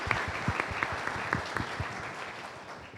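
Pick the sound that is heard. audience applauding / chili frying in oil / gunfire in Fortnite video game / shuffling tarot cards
audience applauding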